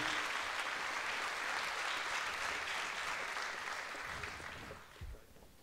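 An indoor audience at a mayor's New Year's greetings ceremony in Fourmies gives the town councillors a steady round of applause, dense and sustained clapping that gradually thins out toward the end.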